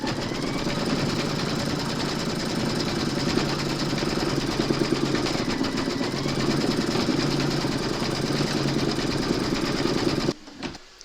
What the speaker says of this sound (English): Load your white thread for the eyes into your machine, and then stitch round number 9.